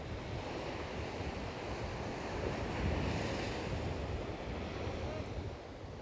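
Ocean surf rolls in at Om Beach, Karnataka, with a steady, broad wash of breaking waves and wind buffeting the microphone, swelling slightly midway and continuing unbroken throughout.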